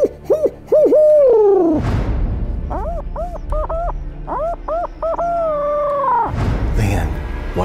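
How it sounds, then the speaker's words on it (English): A barred owl's rhythmic hooting series rings out loud and close on a spring morning, several drawn-out, wavering hoots in two phrases, ending in a trailing, descending call. "Way off, you hear that barred owl."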